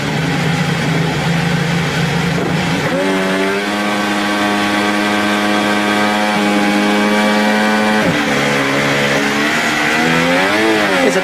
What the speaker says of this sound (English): Let's have a little listen to Kimi Räikkönen in the Ferrari there, as he puts that Ferrari on the front row for his practice start